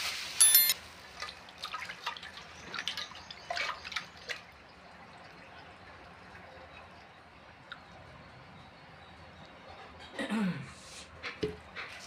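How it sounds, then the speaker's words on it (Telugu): Six ripe sapota fruits washed under running water in a home kitchen make quiet, scattered splashes and drips, with a brief louder burst near the start and another near the end. "బాగా కడుక్కుందాం."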